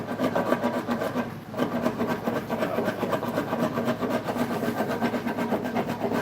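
A rasp grinds in repeated rough strokes across a wooden shoe heel as it is filed and scooped, a close, steady scraping rhythm with no voices.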